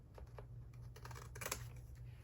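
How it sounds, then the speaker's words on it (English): Large scissors snip through paper or sticker sheets at a journaling desk, a few quiet, close crisp cuts spaced irregularly over a low steady background hum, with no speech. "let me grab some bigger scissors"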